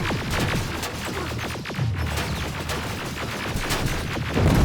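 Heavy combat gunfire in Terminator: Resistance, a dense fusillade of rapid shots and crashing impacts that keeps up loud and unbroken from start to finish.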